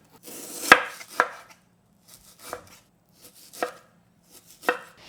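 Knife chopping through partly frozen beef on a cutting board, sliced thin for bulgogi: about seven sharp, distinct cuts spaced irregularly, close and fairly loud, with quiet gaps between strokes and no talking.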